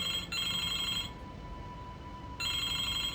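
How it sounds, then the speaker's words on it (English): A telephone rings in the video game Broken Sword II: The Smoking Mirror, two electronic ring bursts separated by a short pause, clear and alone over quiet room tone. "the phone is ringing"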